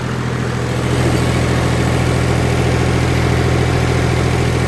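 A tractor engine drives a water turbine pump, a loud close steady diesel drone with a strong low hum that swells slightly after the first second and then holds even, no voices.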